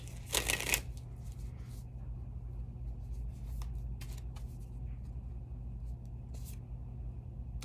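A brief riffling burst of tarot cards being shuffled near the start, followed by a low steady hum with faint scattered handling sounds.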